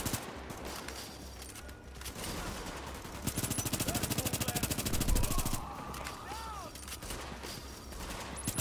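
Deployed turret firing rapid bursts in The Division, a fast rattling stream of shots amid wider gunfire and game noise.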